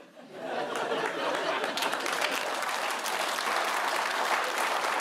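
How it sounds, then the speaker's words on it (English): A studio audience at a comedy panel show breaks into a full round of applause that swells quickly and holds steady, with a little chatter and laughter mixed in. "I can't believe that rubbish got a round of applause."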